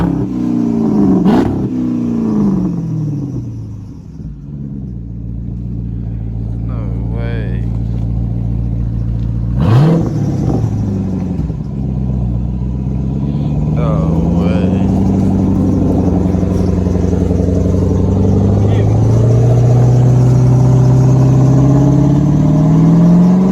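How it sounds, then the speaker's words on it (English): A car with a loud modified exhaust idles and revs close up, the engine rising in several sharp bursts and long climbing pulls, while people talk over it. "as y'all can see, the car is very loud."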